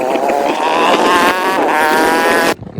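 A ZX motorcycle's engine drones loudly and steadily up close as it rides toward the field, with wind buffeting the microphone before the roar suddenly cuts away near the end.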